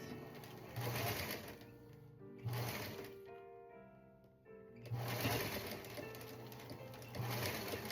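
Sewing machine stitching a Pickle dish quilt block, running in several bursts of rapid needle chatter separated by brief pauses, close and fairly quiet.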